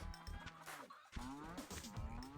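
A cow in a video game lets out a drawn-out, mid-pitched moo over a busy background of game noise.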